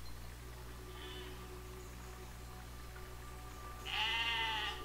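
Sheep in the physics building game Besiege let out a loud, close bleat near the end, after a fainter bleat earlier, over a steady low game hum.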